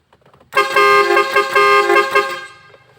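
A loud musical car horn plays a quick multi-tone melody of rising and falling notes, then fades out.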